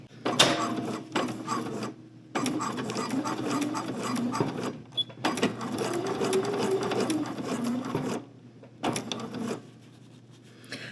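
A sewing machine stitches an overnight bag in green thread, sewing up toward the hardware: several close, steady mechanical runs of whirring and clatter, split by short pauses.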